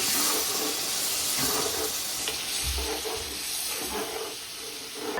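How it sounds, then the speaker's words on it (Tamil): Water poured into a pan of mutton liver varuval, a steady sizzling hiss and stirring scrape with a brief splash partway through, close and moderately loud with no talk. "இந்த டைமில் வந்து நான் வந்து தண்ணி சேர்க்க போகிறேன்"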